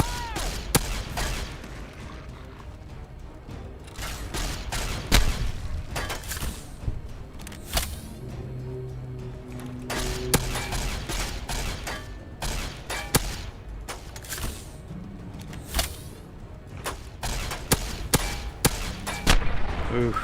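Rapid bursts of gunfire from the video game Fallout New Vegas crack repeatedly and irregularly, sharp loud shots scattered across the whole stretch over a low rumbling background.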